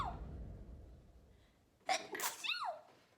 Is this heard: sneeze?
yes